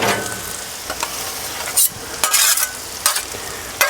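Jarred garlic sizzling in a pan over a wood fire, a constant hiss punctuated by a few sharp scraping stirs, close and unaccompanied by speech.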